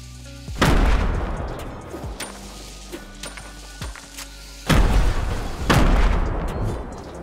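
Grenade blasts in the Fortnite video game: two loud, deep booms, the first near the start and the second later on. Each is followed by a long rumbling decay, with smaller pops and thuds in between.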